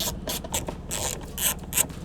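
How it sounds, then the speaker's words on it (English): A ratcheting tool clicks in short bursts while small star screws are undone on a Mercedes SL Vario roof headliner, close and crisp with brief pauses between turns. "So the next thing is getting these screws undone. The little star screws."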